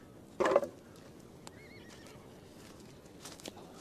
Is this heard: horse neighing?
yes